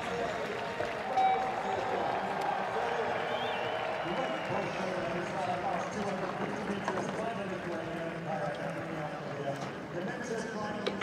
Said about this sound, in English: a bit of a cheer also for number one, the last finisher, Nekriosis, the Lithuanian.